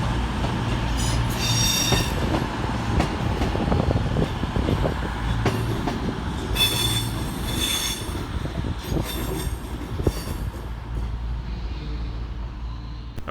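A Northern class 323 electric multiple unit, 323235, departs Manchester Piccadilly with a steady rolling rumble and repeated high-pitched wheel squeals rising and fading over several seconds.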